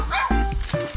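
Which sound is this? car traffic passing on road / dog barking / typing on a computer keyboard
dog barking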